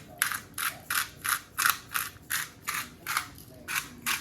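Pink Himalayan salt crunches through a hand grinder in a steady run of about a dozen rhythmic ratcheting grinds, close and clear with no talking.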